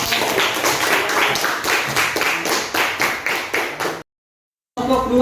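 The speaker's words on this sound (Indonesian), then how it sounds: "Kita berikan aplaus ya." A classroom of students applauds a group after its presentation, a steady, lively burst of many hands clapping in a roughly even rhythm for about four seconds, then silence and a voice resuming.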